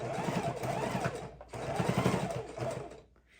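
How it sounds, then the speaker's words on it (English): A sewing machine stitches the fabric edge of a soup bowl cozy, running in two steady bursts separated by a brief stop, close and clear with no talk. "we're going to sew a fat 1/4 inch all the way around the outside"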